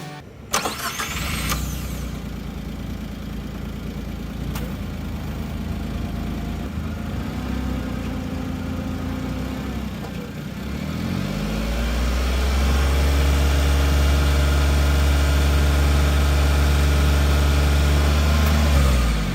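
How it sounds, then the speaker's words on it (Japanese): A car engine with its stock factory muffler cranks and fires, then settles into a steady, deep idle that grows fuller and louder after about twelve seconds, heard close with no talking. "エンジンかけてみます。"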